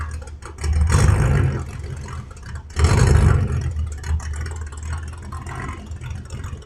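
A loud car pulls away from a car audio shop, with two strong revving bursts followed by a fading engine drone, close at first, then receding, without speech.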